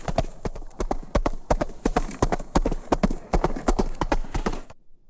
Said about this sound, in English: she heard the hoofbeats